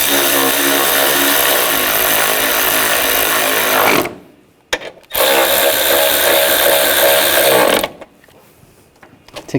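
A loud power tool tightens bolts on the 3.0L inline-six engine of a 2000-2006 BMW X5 during a water pump pulley replacement. It runs hard in two long bursts, each about four seconds, with a brief stop between them.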